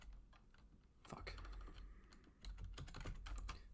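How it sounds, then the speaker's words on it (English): Someone types fast on a computer keyboard, a dense stream of close clicking keystrokes with brief bursts of heavier taps and no pause throughout. "Typing shit wrong."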